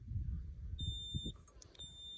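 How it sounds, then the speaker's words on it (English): Warning beep from a Hinowa 23.12 spider lift: a steady electronic tone sounds in two stretches with a brief gap between, over a loud low machine rumble, with no talk. "and that will switch off the beep"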